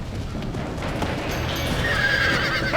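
A horse in the Western video game Red Dead Redemption whinnies loudly over hoofbeats and a busy, noisy rumble, the neigh rising clearly near the end.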